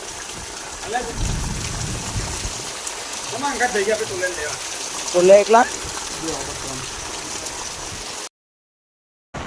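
Heavy rain falls steadily with low rumbles of thunder during a lightning storm, a constant wash of noise with a few louder bursts and faint voices in the background.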